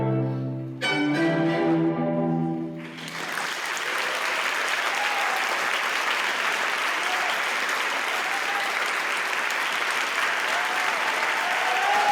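A London audience gives the Astana Ballet troupe a standing ovation, sustained dense applause that swells after a brief musical ending and carries on loud and steady.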